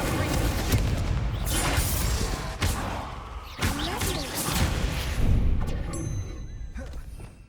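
The Incendio fire spell being cast in the video game Hogwarts Legacy, heard as loud, repeated booming blasts and heavy thuds in quick succession, filling the whole stretch at close range.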